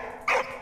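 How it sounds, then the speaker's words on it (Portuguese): A dog in the video game Valiant Hearts: The Great War lets out a single short, sharp bark over quiet background ambience. "Agora tá latindo aí."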